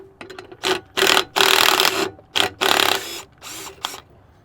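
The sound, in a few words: ratchet loosening a clamp on a truck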